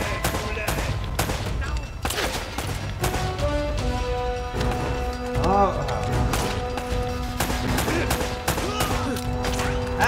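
Gunfire from the video game Uncharted: repeated sharp shots and bursts crack steadily through a busy game mix of music and effects, loud and close throughout.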